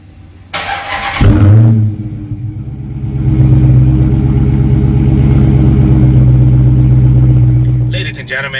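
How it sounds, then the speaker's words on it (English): 2017 Dodge Hellcat Charger starting up, a brief whir and sharp catch, then a loud, deep, growling idle and rev that rumbles steadily close by for several seconds, with a voice talking over it. "It growls, it definitely has a purr to it, and that will be a 2017 Dodge Hellcat Charger."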